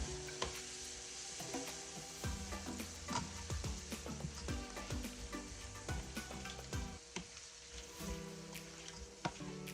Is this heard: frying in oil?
yes